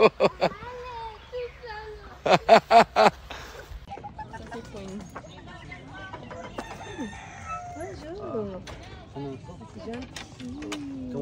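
A rooster crows in a loud burst of repeated calls, then clucks and chatters in shorter calls while children's voices talk over the scene.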